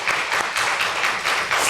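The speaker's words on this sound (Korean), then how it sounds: "우리 박수로 우리 대표해서 축하하도록 하겠습니다" A church congregation claps together in congratulation, a steady burst of close, even applause with no voices over it.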